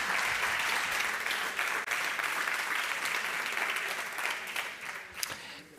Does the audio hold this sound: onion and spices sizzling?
no